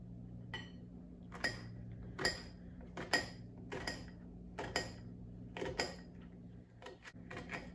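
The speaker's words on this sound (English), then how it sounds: "I also going to cut it into I'm not going to say tiny pieces, but small pieces" Knife strikes on a cutting board while a quarter of a red onion is cut into small pieces, irregular crisp taps in small bursts close by, no talking.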